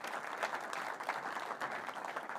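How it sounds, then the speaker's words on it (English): An audience applauds Marcus at a live event, a dense, steady wash of many hands clapping at once, fairly loud and continuous with no voices over it. "a huge applause to Marcus"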